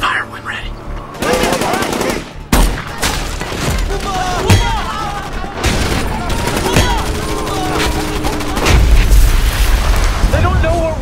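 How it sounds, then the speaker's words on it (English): Small arms gunfire and mortar fire ring out in a war film scene, loud sustained bursts of shots and heavy booms, with voices shouting over the battle. "We're receiving small arms and indirect fire from hostile troops."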